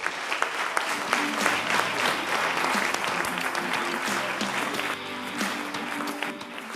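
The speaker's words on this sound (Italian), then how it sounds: "Facciamo un applauso al Sestri." Applause for the Sestri team at a sports gathering, a thick, steady stream of clapping from a crowd that lasts throughout with a faint tonal hum beneath.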